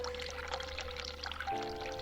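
Water pours from a sink tap in the horror game The Cat Lady, a steady close stream with a low tonal hum that shifts pitch partway through.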